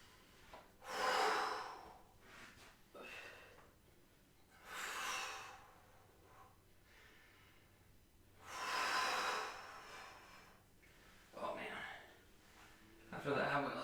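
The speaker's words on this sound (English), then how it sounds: "I'm going to try and take 5 breaths from this position." Heavy, deep breaths during an ab exercise held with the lower back pressed flat to the floor, part of a hypertrophy circuit: several long, loud huffing exhales and gasps spaced a few seconds apart, close to the mic.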